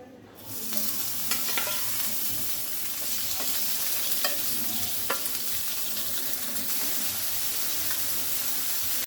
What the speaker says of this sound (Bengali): প্রথমে আমরা মাছগুলো ভেজে নেব